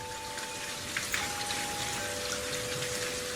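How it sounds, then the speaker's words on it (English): Steady rain on a porch patters all around with occasional heavier drips, and a faint sustained tone hums quietly beneath it. "you can hear the rain all around you"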